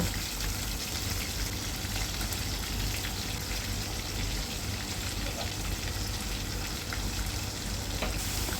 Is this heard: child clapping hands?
no